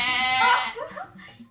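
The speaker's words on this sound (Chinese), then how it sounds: "绵羊。" A single sheep bleat, a wavering nasal cry that rings out loud and close, then trails off into quieter bleating sounds.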